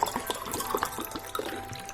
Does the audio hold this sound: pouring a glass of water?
yes